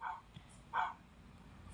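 A dog gives two short, faint barks about a second apart, somewhat distant, with quiet background noise between them.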